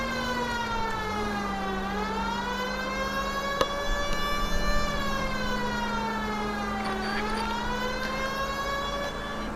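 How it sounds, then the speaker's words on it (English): A wailing police siren in the video game L.A. Noire rises and falls in long sweeps, steady and fairly loud, with no talking over it. "It's only having the sirens in my ears with my headset when I actually find out how annoying it is."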